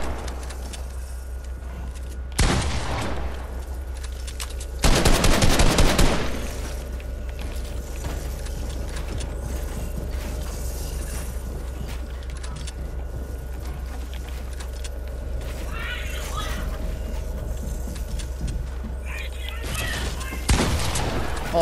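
Gunfire in Fortnite: a few loud, sharp broadband bursts stand out from a steady game background, spaced several seconds apart with a longer burst near the middle, and no voices.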